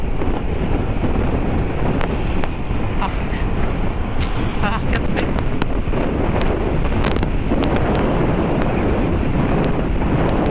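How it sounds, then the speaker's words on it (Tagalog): Strong wind roars and buffets the microphone in a constant loud rumble while riding a Honda Click 150i scooter, with a person speaking briefly over it. "Lakas na hangin."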